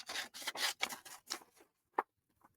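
Scissors cutting out a paper picture of a Victorian lady, a close series of crisp snipping and rustling strokes followed by two isolated quieter clicks.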